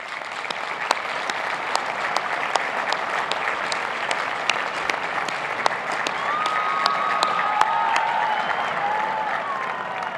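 Sustained applause from a law school commencement audience at an outdoor 2021 ceremony, steady and moderately loud clapping throughout with a faint whistle-like tone near the end.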